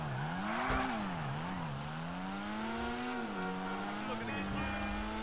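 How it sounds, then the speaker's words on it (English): Weeny Issi Sport car with engine, transmission and turbo upgrades accelerating in GTA Online, a steady engine drone rising and dipping through gear changes, loud and continuous. "So I'm just gonna stop the car over here so we can test the acceleration of this thing."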